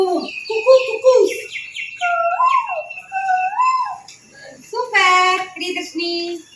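A voice imitates a koel's cuckoo call with rising, whistle-like hoots and a repeated two-note cuckoo pattern, loud and close in a quiet room.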